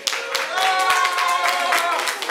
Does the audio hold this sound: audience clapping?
yes